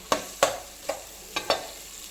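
A spoon stirs turmeric, chilli, coriander powder, garam masala and salt into sizzling ginger garlic paste in a pan, with a steady soft fry under five sharp scraping taps; close, and no voices.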